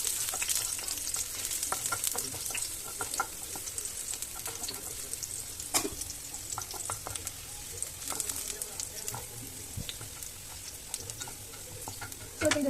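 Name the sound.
stirring and frying in pan for veg lasagna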